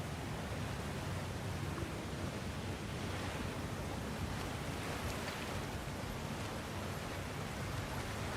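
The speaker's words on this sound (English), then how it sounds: "Sounds like you got the water moving along" Rushing water in the video game God of War Ragnarok, a steady broadband wash of flowing water that fills the whole clip evenly, loud and continuous with no talk over it.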